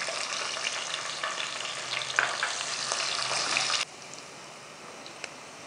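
Onions frying in a pan with pickling spices for a taro root curry, a steady close sizzle and crackle that drops abruptly quieter near the end, no voices.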